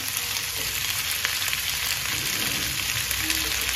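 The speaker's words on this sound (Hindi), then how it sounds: "आलू पहले डालना था अब हो गया कोई बात नहीं साथ में भुन जाएगा" Potatoes frying in a pan on a home stove, a continuous soft sizzle with faint crackle, alone without talk.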